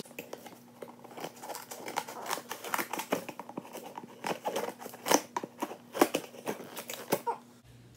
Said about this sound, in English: And we have some scissors.